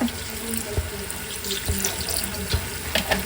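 Water is poured into a cooking pot of chicken feet already seasoned with soy sauce and vinegar for spicy-sweet adobo, a steady, soft splashing stream heard alone at close range.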